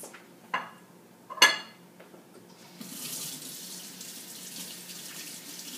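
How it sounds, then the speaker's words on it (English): A kitchen sink tap runs to rinse seasoning off a turkey tenderloin: a couple of soft knocks and a clatter first, then a steady, close hiss of flowing water that carries on to the end. "I go ahead and give the tenderloin a little rinse"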